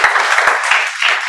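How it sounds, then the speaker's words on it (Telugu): Classroom clapping at a spoken English lesson, a short burst of brisk, close applause from a small group with uneven overlapping claps. "క్లాప్స్."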